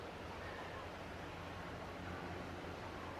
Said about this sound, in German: Auch diese Stille hier unten, falls ihr es hören könnt, da fließt ein Bach durch